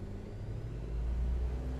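A Tecnam P92 light aircraft taxis toward the runway at Lethbridge Airport in Microsoft Flight Simulator 2020, its engine a steady low rumbling drone that swells slightly midway, with no talking.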